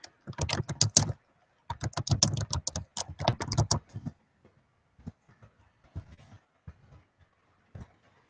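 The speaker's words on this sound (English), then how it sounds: "You can watch me type." Rapid computer keyboard typing during a live stream, close and crisp, with dense bursts of key clicks for about four seconds that thin out into sparse, scattered taps.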